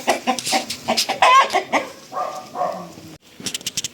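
Chickens clucking close by in a busy run of short calls, with a brief pause before a few more quick clucks.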